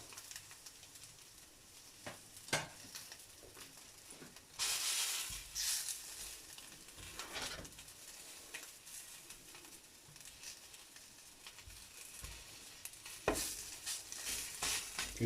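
Split-open sausages frying in a pan, a quiet, steady sizzle with crackling pops and a few louder bursts of spattering, heard alone with no voices.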